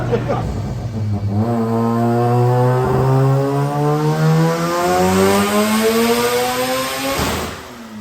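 A rotary-swapped Subaru BRZ's engine revs hard up to the limiter, a loud, close, droning tone climbing steadily in pitch for several seconds before cutting off near the end.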